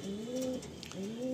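A male Bhula Chapka pigeon at a loft in Sonarpur coos in two clear, rolling calls, close and alone, with a brief pause between them.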